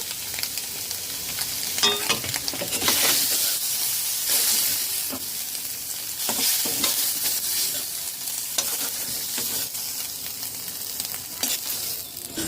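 Cauliflower fries in four tablespoons of olive oil in a wok over a medium flame. A loud, continuous sizzle hisses throughout, with occasional scraping and stirring noises breaking through.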